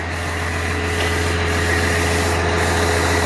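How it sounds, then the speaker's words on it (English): A first-generation Cummins truck engine idles through its stock exhaust system, a steady, even drone and hiss that holds at constant loudness, close by and alone with no voices. "Y'all listen to how quiet this is the stock exhaust system."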